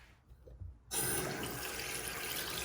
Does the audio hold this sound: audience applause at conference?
no